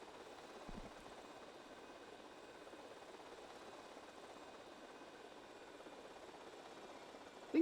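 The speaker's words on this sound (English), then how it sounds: "God damn it, I'm flying a toy helicopter." A toy remote-control helicopter flies in the video game GTA: Vice City, giving a faint, steady whirring engine drone that continues unbroken throughout.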